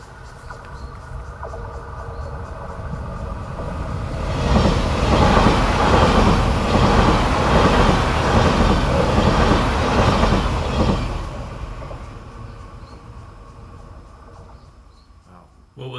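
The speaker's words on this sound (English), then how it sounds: "this train that I recorded just outside the tunnel" An electric train rolls past just outside a tunnel, building from a steady rumble to a loud, dense clatter of wheels on rails around the middle, then fading away again as it recedes.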